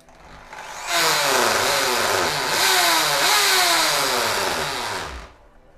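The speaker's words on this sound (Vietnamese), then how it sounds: "Chức năng hoàn búa nghe này." A Makita rotary hammer drill, 17mm class, runs in hammer mode, a loud buzzing motor with rapid hammering that starts abruptly, holds steady with slight speed wavering for about four seconds, then stops.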